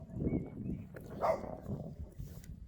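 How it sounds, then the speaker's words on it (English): Post-Soviet stray dogs barking somewhere outside in Kehra, Estonia, a few scattered yips and woofs at middling distance over a low, steady outdoor rumble. "Some doggos there, post-Soviet dogs, obviously."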